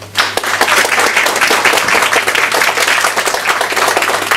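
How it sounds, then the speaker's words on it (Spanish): An audience applauds at a consular accountability event in Ecuador's consulate: dense, steady clapping from many hands fills the whole stretch at a loud, even level, with a low hum underneath. "Un aplauso, por favor."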